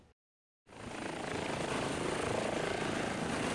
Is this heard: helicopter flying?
yes